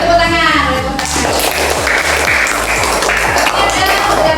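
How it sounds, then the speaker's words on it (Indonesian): Schoolchildren in an Islamic religious education class break into a burst of hand clapping, a broad, steady patter that follows a teacher's voice and keeps going to the end. "Tapi boleh tepuk tangan,"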